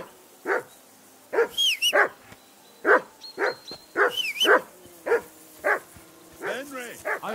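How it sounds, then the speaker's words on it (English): A dog in the video game Kingdom Come Deliverance 2 barks repeatedly in sharp, evenly spaced yaps at close range, with a few whiny yips mixed in and a voice at the end. "I assume you can hear that damn dog of yours barking."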